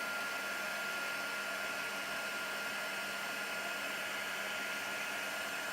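A heat tool blowing steadily to melt embossing powder on a die-cut craft piece, an even, unbroken whoosh of hot air holding at constant loudness throughout with no voices.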